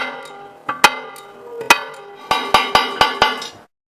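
A glass cutting kit's tapping tool strikes the underside of a circular score in a glass sheet at light force to open the circle. Several crisp, close ringing taps come, sparse at first and then a quick run of evenly spaced strikes, with no voices.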